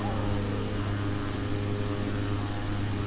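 A turboprop engine in a flight simulator drones steadily at climb power after takeoff, a constant tonal hum with propeller throb and no voices.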